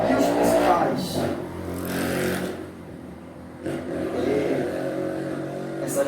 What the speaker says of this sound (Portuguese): Essas motos aí é cruel.